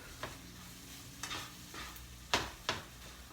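Eggs with spinach and cheese cook quietly in a pan while a utensil stirs them, a soft low sizzle punctuated by five brief scraping strokes, the last two the sharpest.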